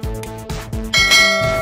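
Bright notification bell chimes ring out in quick succession, a few clear metallic dings with a louder, shimmering strike near the end, alone with no talking.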